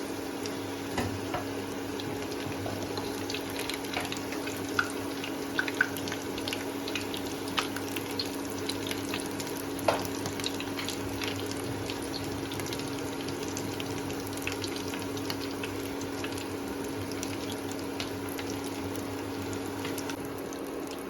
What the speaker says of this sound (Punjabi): ਲਓ ਜੀ ਆਲੂ ਆਪਣੇ ਫਰਾਈ ਹੋ ਗਏ ਹੁਣ ਆਪਾਂ ਇਹਨਾਂ ਨੂੰ ਤੇਲ ਤੋਂ ਬਾਹਰ ਕੱਢ ਲੈਣੇ